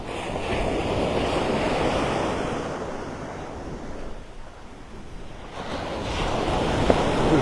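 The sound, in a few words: ocean waves and wind at a beach during a storm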